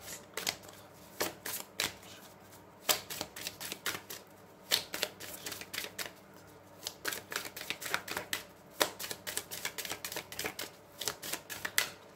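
Oracle cards are shuffled by hand in a quiet room, giving repeated close, crisp riffling flicks and taps in irregular bursts over several seconds.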